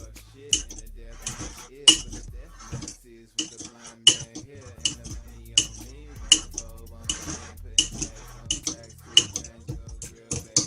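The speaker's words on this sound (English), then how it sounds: "mix it really good" A spoon clinks and scrapes rhythmically against a bowl while banana bread batter with baking soda is mixed, close and steady, with a voice speaking over it.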